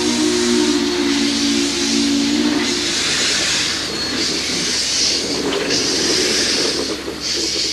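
Steam locomotive of the Daylight express pulling out of Portland Union Station, with a loud steady hiss of steam and a brief low whistle tone at the start, continuous and fairly close.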